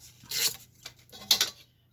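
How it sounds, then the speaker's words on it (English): Paper being torn into strips about an inch wide, two separate rasping tears close by, each lasting roughly a quarter second, with quiet between them. "I'm just going to tear strips of this."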